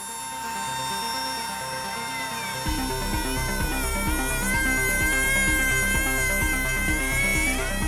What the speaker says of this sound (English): has to drill into the bearing's mount to replace it